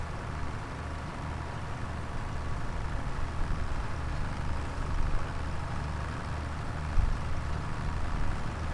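A tractor drives along on a homestead, a low steady engine rumble heard from a distance, fairly faint, with a couple of small bumps.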